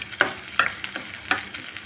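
Chopped onion, garlic and sliced green chilies fry in a pan, with a steady sizzle broken by several crisp stirring strokes close by.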